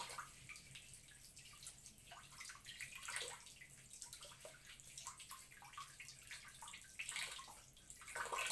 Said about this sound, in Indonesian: Dan dicucinya di air yang mengalir gini teman-teman, itu ngebersihin kotorannya